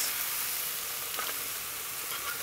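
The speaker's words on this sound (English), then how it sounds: "Now that's the sound of the kind of liquid that's in there with the juices and the mussels and all that great toasty stuff" Mussels with their juices sizzle and spit on a hot piastra griddle, a steady, fairly close broadband hiss with faint crackles throughout, no voices.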